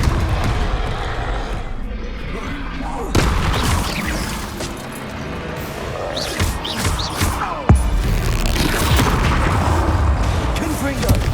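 Repeated spell blasts from Hogwarts Legacy's Confringo curse burst out amid a continuous, dense combat din, with sharp booms near 3 and 7.7 seconds standing out over layered crackling effects.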